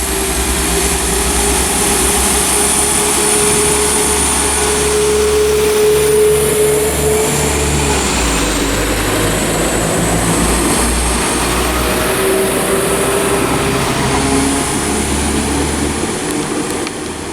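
West Midlands Railway class 172 unit 172337 at Stourbridge Junction, a steady loud diesel drone and rumble holding throughout with no voices.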